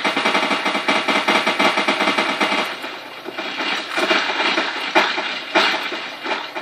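Rapid automatic fire from a P90 in a Garry's Mod weapons pack, a dense continuous stream of loud bursts for several seconds, with sharper individual shots standing out near the end.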